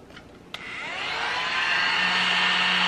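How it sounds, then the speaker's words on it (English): A small handheld mini vacuum cleaner switches on with a click and spins up into a steady, loud whirring hum while sucking up spilled glitter, running continuously with no talk. "Let's see how this vacuum does."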